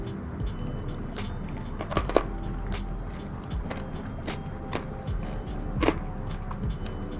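Crunching while eating a roast with pancetta stuffing: crisp, irregular bites and chewing crackles sound close up, with several sharp crunches scattered over the stretch and no talking.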